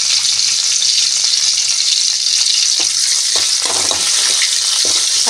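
Curry leaves, garlic and green chillies fry in hot oil with a loud, dense, continuous sizzle heard close up, with a few scraping stirs toward the end.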